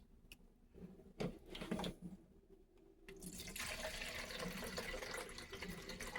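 About two cups of water poured into a pot for cooking rice, a steady, close rushing splash that starts after a few clicks and knocks and keeps running to the end.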